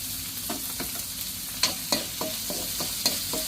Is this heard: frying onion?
yes